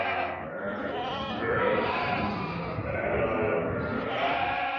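Rams and goats, small and large, bleat steadily while walking in a line, a dense overlapping flock chorus that stays loud and close throughout.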